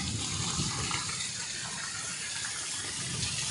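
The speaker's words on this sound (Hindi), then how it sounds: "बहुत शदीद बारिश है" Heavy rain pours steadily in a Punjab village, a dense, continuous wash of falling water filling the whole stretch without pause, close and fairly loud, with no voices.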